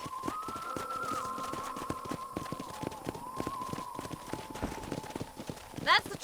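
Horse hooves clip-clopping at a steady trot in Red Dead Redemption, crisp rhythmic hoofbeats running continuously over a low sustained tone, ending with a short burst of voice.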